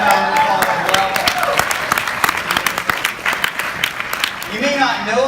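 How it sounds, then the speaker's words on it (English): The audience at a panel discussion event breaks into a burst of clapping, sharp hand claps loud and close, with talking coming in at the end. "Give them a round of applause as well"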